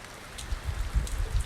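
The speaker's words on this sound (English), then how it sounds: "It's raining. It's damp everywhere." Steady rain falls on a cold, damp day, a soft even patter with scattered drops, fairly faint and close, with no voices.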